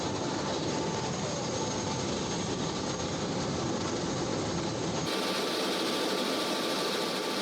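A helicopter flies over Dubai, past the Burj Khalifa and Palm Jumeirah, with a loud, steady, droning rotor and engine roar that fills the whole clip without a break.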